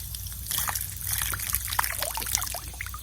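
Water trickles and sloshes as a homemade soda bottle trap is emptied beside a backyard pond, a continuous close pour with small splashes and no voices.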